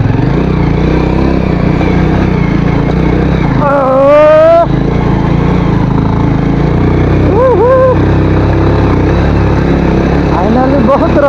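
A motorcycle travels a rough, bumpy village road, its engine droning steadily and loudly up close, with a brief rising whine and short vocal-like tones over the rumble.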